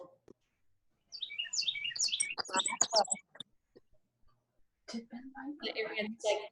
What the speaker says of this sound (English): I heard the birds and I was like, oh, wow, they're really loud